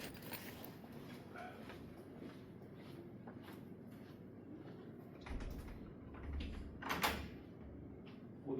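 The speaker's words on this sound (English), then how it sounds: "We'll just lock the door." A door slides and bumps shut nearby, with some low thuds and rattling against a quiet room background.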